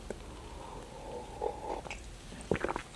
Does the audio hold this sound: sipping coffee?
yes